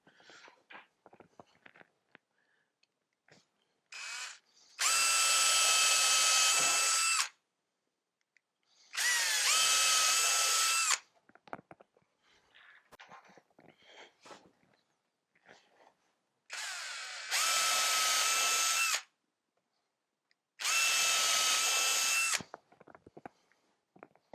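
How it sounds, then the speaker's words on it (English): Power drill boring screw holes through timber for a beehive floor, heard in four separate bursts of steady high whine, each lasting a few seconds, close and loud, with quiet handling noises between. "You want to make sure that your drill bit is big enough for the shaft of the screw to go through the timber"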